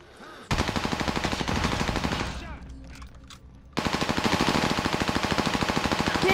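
Sustained machine-gun fire in Call of Duty Modern Warfare, two long bursts of rapid, evenly spaced, loud close shots separated by a brief lull with echoing tails.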